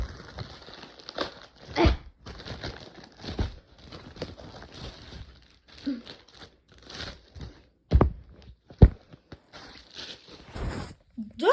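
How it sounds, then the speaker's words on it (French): A Miss Cool magazine special issue is unwrapped from its plastic packaging, with close crinkling, tearing and rustling bursts in irregular bunches, some louder snaps, and a voice talking quietly at times. "Mais avant, je vais le déballer."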